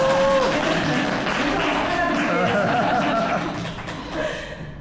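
Seminar audience applause in a hall, a moderate burst of clapping mixed with some light laughter that tapers off near the end, with the presenter speaking over it.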